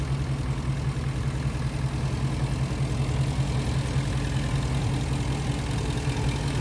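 A 2016 Ford E350 Super Duty box truck with a 5.4 liter flex fuel V8 and automatic transmission idles steadily, a continuous low engine rumble with a constant hum, close and unbroken, with no talking.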